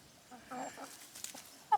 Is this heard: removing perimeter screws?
no